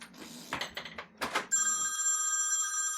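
A telephone bell rings with a steady, continuous electronic trill that starts abruptly and holds on, following a few seconds of soft shuffling and handling noises nearby.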